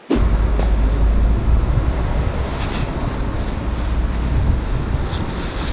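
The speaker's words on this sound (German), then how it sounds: "Es ist ein wenig windig." Strong wind buffeting outdoors by an empty college campus, a loud, steady low roar of gusts battering the microphone throughout, with no voices.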